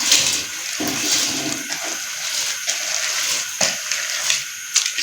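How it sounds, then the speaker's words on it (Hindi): Washed rice poured into boiling yakhni stock for Afghani pulao makes a close, watery rushing splash, with bubbling and a few sharp clinks of a utensil against the pot. "तो स्टेज पे हम आके इसमें चावल ऐड करते हैं।"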